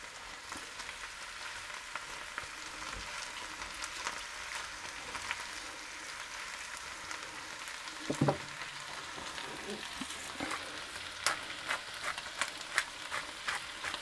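Bell peppers for peperonata fry in a pan with a soft, steady sizzle, broken by scraping stirs and a sharper clatter of the utensil against the pan partway through, with no voices.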